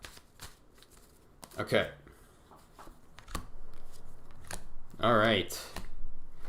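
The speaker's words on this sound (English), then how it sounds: "Let's do one more little shuffle here." Tarot cards shuffled in quick riffling bursts, one short flurry early and a louder one near the end, with a person speaking briefly between them.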